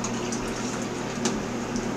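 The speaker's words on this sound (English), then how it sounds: "First, fill up a cup 2/3 full with water." Water streams steadily into a cup from a tap or pitcher, a continuous close hissing gush without pauses or talk.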